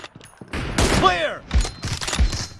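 Several bursts of gunfire ring out in PUBG Mobile, with short shot clusters and a sweeping tonal sound effect, fairly quiet amid game sounds.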